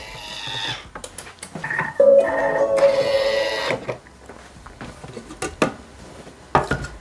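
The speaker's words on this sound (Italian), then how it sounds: "Ed azionare il bimby per 3 minuti, 100 gradi, antiorario, velocità soft." A Thermomix (Bimby) cooking trofie with mushrooms and pancetta at 100 degrees, stirring counter-clockwise on soft speed, gives a humming motor tone broken by scattered clinks and rattles of the blade and bowl.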